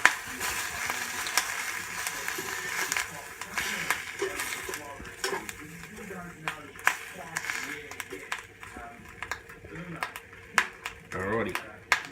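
Cheese, ham and egg toasties cooking on cast iron skillets, including a 1920s Griswold Good Health number 3, a soft sizzle with scattered clicks and scrapes under someone talking.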